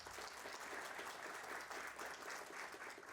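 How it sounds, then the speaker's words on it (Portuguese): Audience applause at a meteorology conference, a steady, dense wash of clapping that fills the whole stretch at moderate level with no talk over it. "Uma salva de palmas, por favor."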